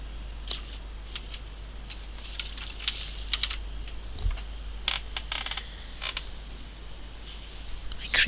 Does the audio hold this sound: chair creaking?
yes